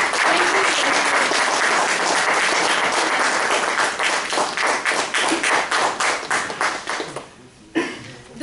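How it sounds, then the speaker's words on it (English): Audience applause at a Toastmasters-style club meeting held at an office, a dense sustained round of clapping that thins into scattered individual claps and fades near the end. "Please have a big round of applause for her."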